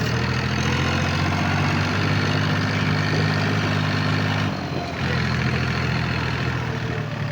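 A farm tractor with a plough hitched idles at close range in spring fieldwork, its engine a steady low rumble with a brief dip in level toward the end, no voices.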